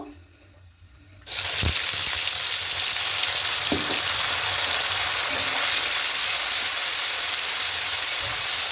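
Spice paste for chicken chana masala hits hot oil with whole cinnamon, cardamom and cloves, bursting into a loud, steady sizzle that holds without pause, with a few faint stirring knocks.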